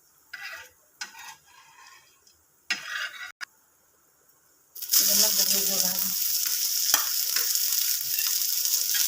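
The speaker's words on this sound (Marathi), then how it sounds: "ही बघा डाळ लाल झालेली डाळ, अशी लाल भाजून घ्यायची डाळ" Lentils being dry-roasted in a pan for chicken curry: a few light scraping stirs, then a loud steady sizzle of frying that carries on with occasional clinks of a utensil.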